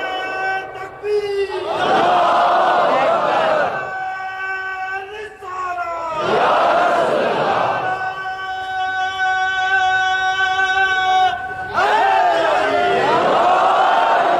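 A large gathering at a Muharram religious assembly answers a call with salawat, voices rising together in loud chanted bursts that swell, pause and return several times, with a leader's voice between.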